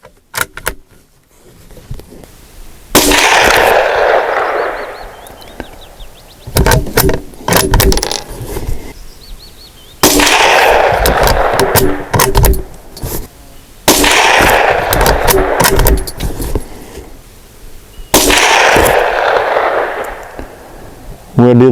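A BRNO Model .22 rifle firing CCI Stinger ammunition: about five loud, sharp shots spaced several seconds apart, each with a trailing echo and handling noise in between.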